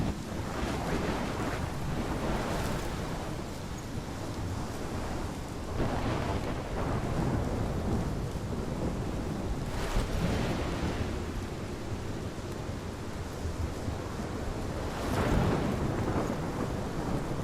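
A raging thunderstorm in the video game Life Is Strange, with heavy roaring wind and crashing surf-like waves that swell into loud thunder bursts several times across a long, continuous stretch.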